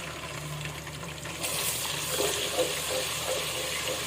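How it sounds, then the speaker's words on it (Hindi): Ginger garlic paste sizzling in onion-flavoured ghee with garam masala, a close, steady hiss of frying that grows louder partway through as the paste is stirred in the pan. "अदरक लहसुन को थोड़ा फ्राई कर लेंगे हम"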